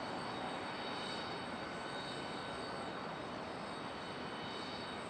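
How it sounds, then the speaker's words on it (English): A Boeing 777 airliner pushing back at Charlotte Douglas International Airport, with a loud, steady broadband jet-engine roar that holds without a break throughout and no voices. "And there goes our 777 pushing back."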